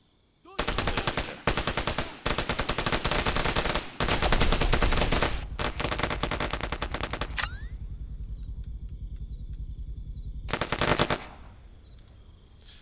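Video game gunfire rattles in several loud rapid automatic bursts separated by short gaps, followed by a ringing high whine and one final burst near the end.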